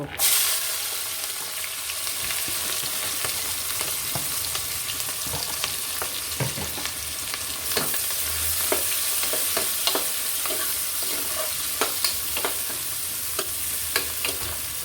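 Chopped onions fry in a pan of hot oil, a steady close sizzle with scattered crackles and the scrape of a spatula stirring at irregular intervals, no voices.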